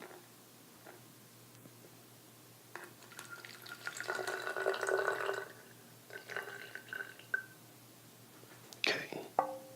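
Fifty millilitres of water poured onto a sanitary napkin during a product demonstration, a soft close trickle and splash rising for a couple of seconds, with faint voices and small handling sounds around it.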